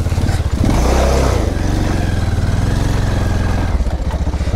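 A motorcycle engine drones loud and steady at close range while ridden over a rough, untried dirt track, with clatter through the ride and no speech.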